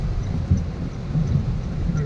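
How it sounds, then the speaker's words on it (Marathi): Heavy monsoon rain pounds down around a car on the Malshej Ghat road, a steady, close, low rumbling roar with a few louder gusts and bursts. "कारण पाऊस जबरदस्त आहे"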